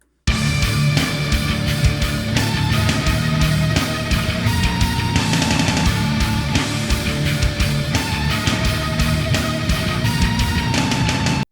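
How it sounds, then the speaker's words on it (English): Heavy guitar chords ring out in a dense, loud wall while a phased guitar line sweeps over the top, with sustained notes shifting pitch every few seconds; a continuous, full-band texture with no talking. "we've got those big guitar chords and then some phased guitar going over that"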